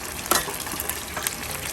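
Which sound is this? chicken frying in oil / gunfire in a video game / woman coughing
chicken frying in oil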